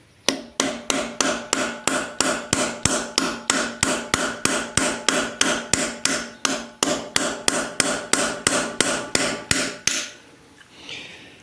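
A tool strikes and cuts at a bolt on a seized Alfa Romeo 2.4 JTD 10v engine, some thirty sharp metallic impacts in a fast, even rhythm, close and loud, before stopping abruptly.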